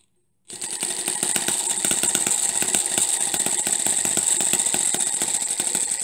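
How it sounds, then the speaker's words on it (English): A miniature four-stroke hit-and-miss internal combustion engine runs with its governor cycling, giving a steady, fast, close-up mechanical chatter of rapid ticking strokes that starts abruptly and continues evenly without speech. "If I put a load on the engine, you will hear it start to fire more often."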